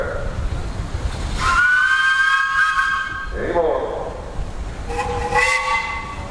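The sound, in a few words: steam whistle blowing at a steam show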